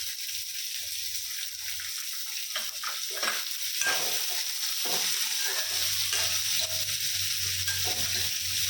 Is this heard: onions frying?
yes